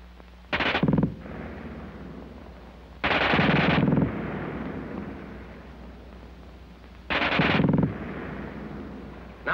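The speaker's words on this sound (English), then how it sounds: "Nobody but the replacement, who can't get over the fast burp of that German gun." Three long, rapid bursts from a German automatic machine gun, loud and harsh, each lasting about a second and followed by a rumbling echo that fades off between volleys.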